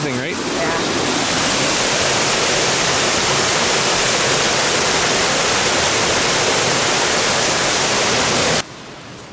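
Loud, continuous rushing of creek water falling a couple of feet and churning nearby at a micro hydro system, a dense steady roar that stops suddenly near the end.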